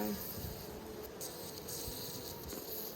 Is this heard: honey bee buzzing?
yes